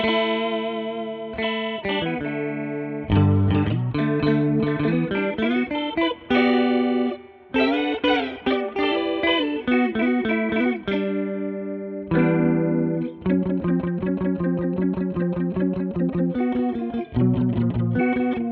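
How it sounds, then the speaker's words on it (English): Electric guitar runs through a stereo pitch-shift pedal, a shimmering effect with notes warbling and sliding up and down in bursts, with short pauses between phrases. "it's going to sound like the pitch is shifting"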